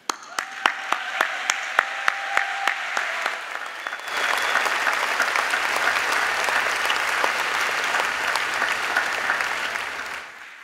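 Audience applauds the Brian Sand Quintet at a science event; a few scattered claps open, then full sustained applause swells and carries on loudly before fading.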